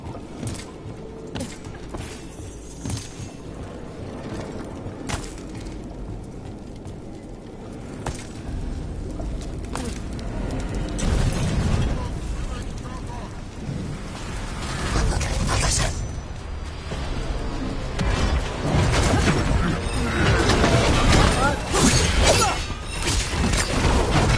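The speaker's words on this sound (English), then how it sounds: "Cannon fire! Get clear!" Cannon fire in a video game sounds as repeated booms and crashes over a long, busy stretch of clanking mechanical noise, growing louder and denser toward the end.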